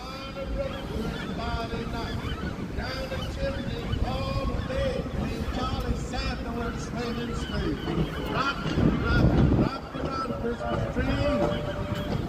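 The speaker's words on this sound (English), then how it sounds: "There's a lot of seagulls here circling." Seagulls circling over the San Francisco waterfront, squawking and honking calls scattered through the stretch over wind and water noise, with people talking throughout.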